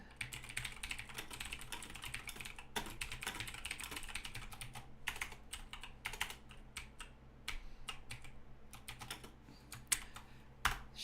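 Quiet, close typing on a PC keyboard, rapid irregular clicks in bursts with short pauses between, with a faint low hum behind and no talking.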